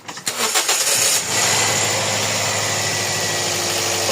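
A Toyota Vios with a cylinder 4 misfire cranks and starts with a loud rumble, then settles into a steady, slightly uneven idle close by.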